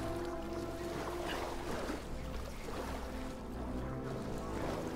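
Water splashing and churning as a character swims in Star Wars Jedi: Fallen Order, a steady broadband wash with wave-like surges and low rumble throughout, no talking over it.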